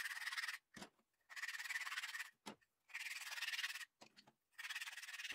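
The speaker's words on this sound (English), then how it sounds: "I still have to do some sanding" Wood blocks for an end grain backsplash being hand sanded in several long, even rasping strokes separated by short pauses, close and fairly quiet with no talking.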